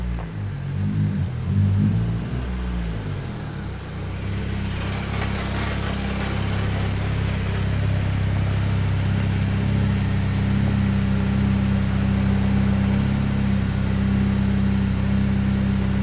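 A car creeps very slowly through the burnout box at a drag strip, its engine a steady low idle rumble that holds constant and close throughout, with no revving.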